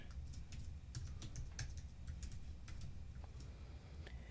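Quick, irregular clicks of a computer keyboard as a password is typed, close and fairly quiet with short pauses between keystrokes, with no voices.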